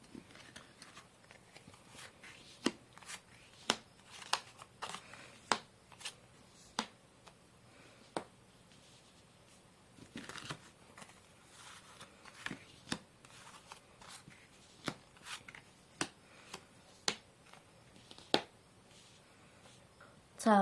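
Tarot cards handled and shuffled at a quiet table, a run of sharp, separate clicks and snaps from the deck, some closely spaced and some paused, set against a faint, steady background.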